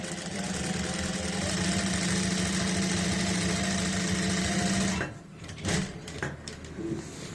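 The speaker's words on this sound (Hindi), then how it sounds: "सिलाई के ऊपर ही सिलाई लगानी है दूसरी।" Electric sewing machine running steadily for about five seconds as it stitches a second seam over a lace neck design with anchor thread, then stopping, followed by a few faint handling clicks.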